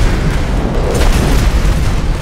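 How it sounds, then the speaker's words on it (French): An ice bomb spell blowing up in the Magicka video game, a loud, dense booming burst with rumbling low thuds and crackling debris filling the whole moment, with no voices over it. "moi je vais y aller à la bombe de glace"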